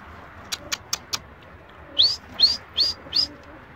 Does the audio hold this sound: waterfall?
no